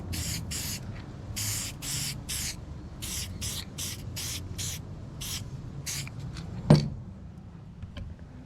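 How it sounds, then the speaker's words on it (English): Spray adhesive from an aerosol can hisses in a series of short bursts while making car door cards, followed by a sharp knock and quieter handling noises. "spray some adhesive."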